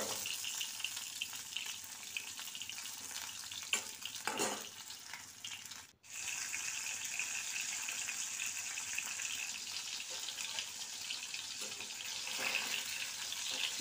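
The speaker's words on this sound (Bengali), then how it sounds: "মাছটা ভাজা হচ্ছে" Pieces of fish fry in a pan, a steady sizzling hiss with occasional stirring clatter and a brief drop to near-silence midway before the frying resumes, fairly quiet.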